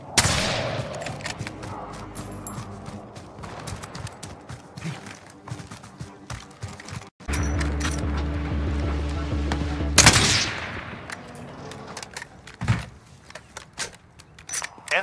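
Gunfire in the video game Call of Duty Warzone: scattered sharp shots and short bursts mixed with mechanical clatter and rumbling battle effects, some loud and close, others fainter.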